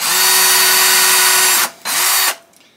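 An electric drill fitted with a small flapper bit bores into the wood of a 1961 Kay Value Leader guitar, a loud close whine held steady for over a second, then a short pause and a second brief burst before winding down.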